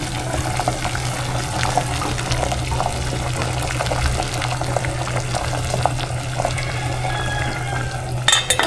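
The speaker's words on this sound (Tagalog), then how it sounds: "yung pinapakuloan ko pong itlog dito ay nakulo" Eggs boiling in a pot of water for lugaw, a steady close bubbling and churning roil with a low continuous hum underneath and a few sharper clinks near the end, no talking.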